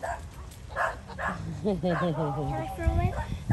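A few short dog barks and yips come through faintly against outdoor background noise at a Fourth of July celebration, with people talking nearby.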